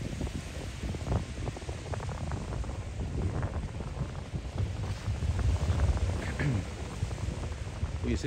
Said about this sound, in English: a chilly, windy, rainy day